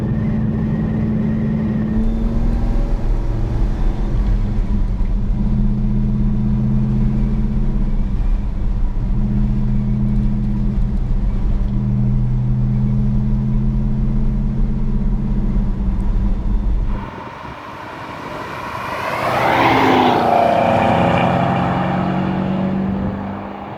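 A 1967 Pontiac GTO Hurst cruises with a steady, loud low engine rumble and drone for most of the stretch, then the note drops off briefly before swelling again as the car accelerates.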